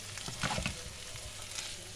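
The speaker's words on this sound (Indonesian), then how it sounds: "Ya, kita acak-acak telurnya." Scrambled eggs for nasi goreng fry and get stirred in a pan, a close, loud crackling sizzle with scraping stir sounds throughout, no voices.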